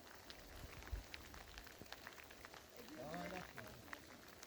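Steady rain falls during a mountain trip in Central Asia, a faint, even hiss that continues throughout, with a brief voice partway through.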